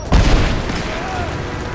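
In Rise of the Tomb Raider, a heavy close boom opens a short burst of game gunfire and explosion noise, followed by a rumbling tail with a voice underneath.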